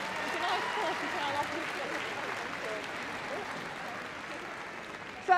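Audience applause rolls steadily through a Crufts 2012 agility arena after a small agility challenge win, a continuous clapping bed with a voice over the crowd and a brief louder burst at the end.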